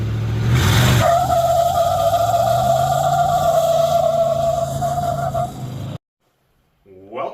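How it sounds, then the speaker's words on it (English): A lifted manual Chevrolet Suburban, just out of winter storage, spinning its tires in place: a loud, steady engine roar with a sustained tire whine for about five seconds, then a sudden cut to near silence. "Time to warm these tires up after sitting all winter."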